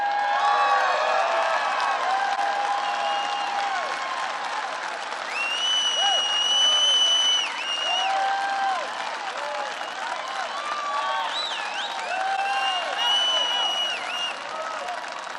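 A large crowd at a Donald Trump political rally in Southaven, Mississippi, applauding and cheering loudly and continuously, with sharp whistles and whoops rising over the sustained clapping.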